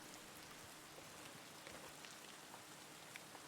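Steady rain falls at night in the game Escape from Tarkov, a dense even hiss of drops with scattered brighter patters, no voices, constant and fairly close throughout.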